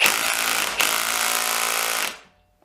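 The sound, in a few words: cordless drill running to free a stuck chuck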